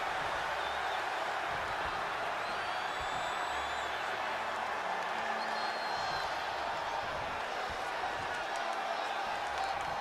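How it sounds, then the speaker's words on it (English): A raucous crowd at a night of wrestling roars steadily throughout, a dense, loud wash of cheering and shouting with scattered whoops, while commentary runs over the top. "What a raucous crowd here tonight."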